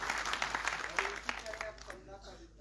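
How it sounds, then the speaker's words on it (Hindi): An audience at a state-level training workshop at Subhash Yadav Bhavan, Bhopal, breaks into a short burst of applause that fades within a couple of seconds, with a voice speaking over it. "ताली हो जाएगी"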